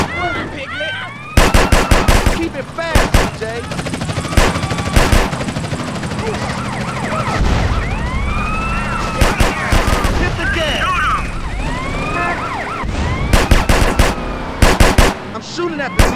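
Rapid bursts of gunfire ring out during a drive-by in GTA San Andreas, fired from a 2002 Mitsubishi Lancer Evolution VII, with loud repeated volleys, engine roar and whining ricochets, and voices shouting between shots.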